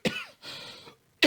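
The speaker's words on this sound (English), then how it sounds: "Coughing fits all over on this Monday." Two or three sharp, close coughs in quick succession, separated by brief pauses, with no talking.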